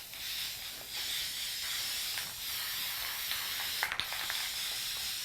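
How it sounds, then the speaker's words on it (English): Gold spray paint misted from a shaken aerosol can onto decorative pieces, a steady close hiss running almost unbroken through the clip with a few brief sharper bursts near the end. "I'm gonna shake my spray can really good. And I'm just gonna mist."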